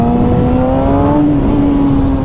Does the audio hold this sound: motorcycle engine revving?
yes